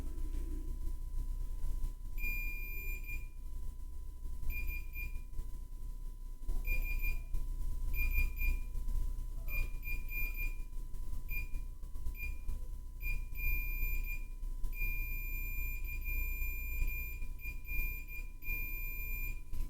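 A multimeter on continuity test beeps in short and longer high-pitched bursts, on and off, while checking a boombox's circuit during repair. The beeps are fairly quiet over a constant faint hum, with no talking.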